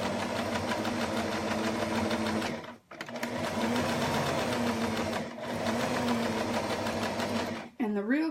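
A sewing machine stitches fabric in steady, humming runs, close and loud, pausing briefly twice between bursts of stitching.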